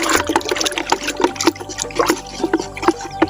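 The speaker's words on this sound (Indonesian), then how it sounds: "setelah kita mencampurkan fungisida ini, nah kita aduk" Water sloshing and splashing as fungicide is stirred into it until dissolved, for treating branch, stem and fruit rot on chili plants; a close, busy run of irregular liquid swirls and drips.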